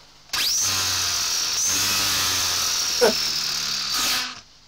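A Traxxas Funny Car RC car's electric motor spun up in burn mode, a loud high-pitched whine that holds steady for about four seconds with a brief wobble near the end before cutting off.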